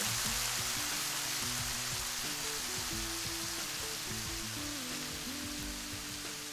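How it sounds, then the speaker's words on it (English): Mushrooms and bacon frying in a pan with balsamic vinegar added, a steady dense sizzle close up, continuous and loud with no speech. "We got a nice fry going on. We're just going to add a little balsamic vinegar."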